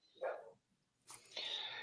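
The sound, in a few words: dog barking in the background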